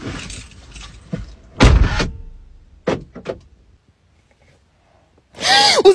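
A car door thumps shut, followed by several short clicks and rustles, a pause, then the car locking with a beep and mechanical whir, all close and loud.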